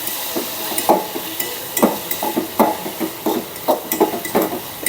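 Onion and turmeric frying in oil while a spoon stirs the pan, with repeated scraping knocks at an uneven rhythm over a soft, steady sizzle, close and moderately loud.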